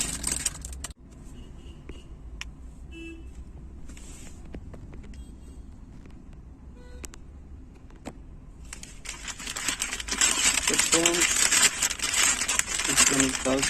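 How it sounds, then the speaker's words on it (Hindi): A plastic bag rustles and crinkles close by as a car atmosphere light kit with RGB strips is unwrapped, with small knocks and clicks and a louder crackling burst near the end. "इसको निकालते हैं अभी पन्नी से"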